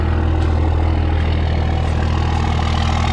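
A 2001 Cummins 24-valve diesel truck engine with a 4-inch turbo-back exhaust idles steadily with a deep, constant low rumble and no other sounds, close by and loud throughout.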